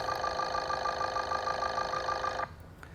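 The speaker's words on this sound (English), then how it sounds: "there's our injector pulsations" Fuel injector pulsations picked up by an accelerometer on an engine, a steady rapid ticking hum with fine regular pulses that runs unbroken for over two seconds and then cuts off abruptly.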